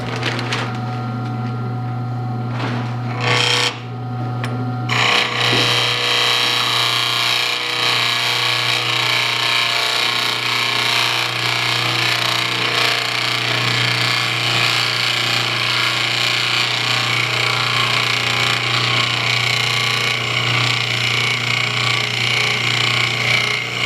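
A CNC machine gouges a shape into wood with a loud, continuous grinding and rasping roar, preceded by a few seconds of a lower motor hum and brief scraping before the cut begins.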